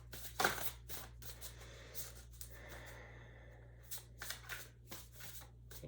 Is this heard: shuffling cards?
yes